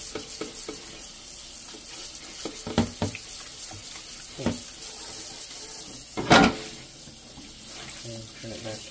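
Cold water runs from a kitchen faucet while a Scrub Daddy sponge scrubs a dish, with a steady wash of water, intermittent scraping and clunks, and one louder splash burst midway.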